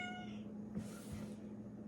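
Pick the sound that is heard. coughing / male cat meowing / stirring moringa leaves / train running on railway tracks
male cat meowing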